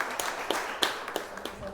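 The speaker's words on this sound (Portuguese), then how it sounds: "Uma salva de palmas para ela." A small audience at a Portuguese speaking event claps with a few sharp, scattered hand claps over a soft murmur, brief and moderately close.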